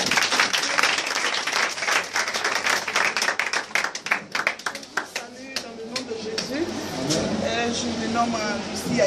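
Worshippers at a church service at the Peniel centre in Divo applaud loudly in a dense burst of clapping that gradually fades, and voices and other room sounds take over.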